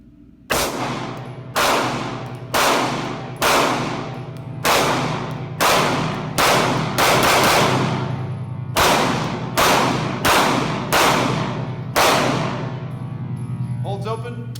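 Pistol shots from a CZ P-07 at an outdoor shooting range, a 15-round magazine fired in about a dozen loud, sharp cracks spaced roughly a second apart, each with a ringing decay, no talk.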